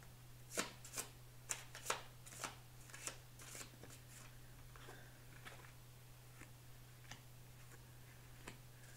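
A deck of about 45 oracle cards shuffled by hand gives quiet, crisp riffling snaps, in quick bursts at first and then sparser and softer, over a steady low hum in a quiet room.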